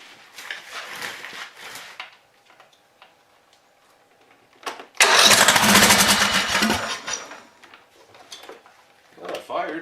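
An old Toro zero-turn mower engine on stale gasoline cranks and fires, a loud broadband roar lasting about two seconds, with a shorter burst after, framed by talk before and after.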